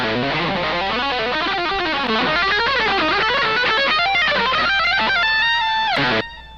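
Fast, heavily distorted electric guitar lead through a Mesa Mark V 25 amp runs up and down in a rapid melodic pattern, ending on a sustained bend before stopping abruptly.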